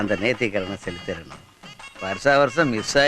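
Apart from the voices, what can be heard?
None of the usual background noises is heard.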